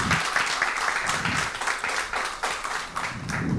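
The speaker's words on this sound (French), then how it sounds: "je demande au public de l'applaudir" The audience at a televised high-school quiz contest between two lycées applauds a newly arrived reserve contestant, a dense and steady roomful of clapping throughout, fairly close, with no talk over it.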